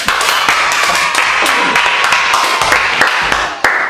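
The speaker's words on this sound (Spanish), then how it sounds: "¡Aplausos!" An audience applauds a special guest at a Spanish-language youth gathering, steady loud clapping that carries on throughout with a few sharper individual claps standing out.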